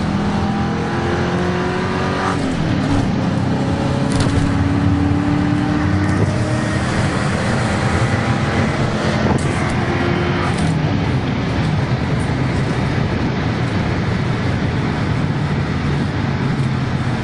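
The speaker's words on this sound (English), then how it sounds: "Wide open throttle test on this thing." Ford Mustang GT tuned for 30 lb injectors pulls hard at wide open throttle, its engine roaring loud and continuous with rising revs and gear changes throughout, heard close from inside the car.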